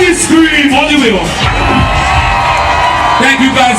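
A dense crowd screaming and cheering in front of a stage band at a Miami Broward Carnival show, loud and continuous, with shouted voices over the roar.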